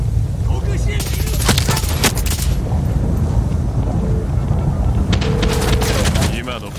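Explosion in the video game Far Cry 6: heavy rumbling blasts with sharp cracking bursts around the first and fifth seconds, loud and continuous before fading at the end.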